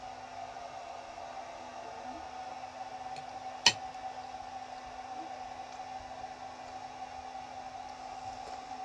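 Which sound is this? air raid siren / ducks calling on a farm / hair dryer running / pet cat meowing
hair dryer running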